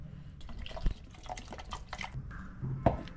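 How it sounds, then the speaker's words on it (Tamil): Water poured into a mixer jar holding thick green moong dal dosa batter, a soft trickling and dripping close by with a couple of small splashes, fairly quiet and steady with no talking. "நம்ம இன்னும் மிக்சியில் கொஞ்சம் தண்ணி ஊற்றிட்டு"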